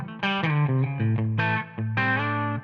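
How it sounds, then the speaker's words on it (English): An electric guitar plays through a Tonex pedal preset with reverb, compression and a noise gate. A few distorted, sustained notes and chords ring out in quick succession and fade slightly between phrases. "now we have reverb, compression,"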